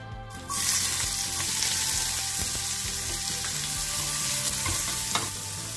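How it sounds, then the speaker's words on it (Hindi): A sudden loud sizzle erupts as cumin seeds hit hot oil for tempering, then settles into a steady, bright frying hiss with occasional small pops, close and continuous. "जीरा का तड़का दे दिया,"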